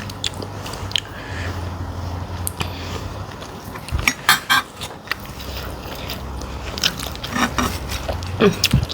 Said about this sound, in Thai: กินปลาเจอสลัดนะคะพี่น้อง